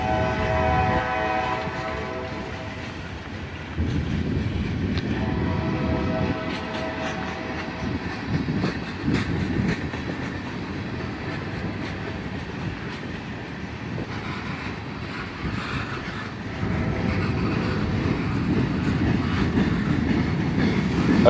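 A CSX freight train rolls slowly through town on a hot Sunday afternoon, a steady low rumble of wagons with rhythmic clatter swelling and easing, heard from nearby and with no talk.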